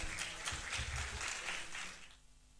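Applause for a school team at a national investment quiz competition, a moderate round of clapping with a steady patter that fades out near the end.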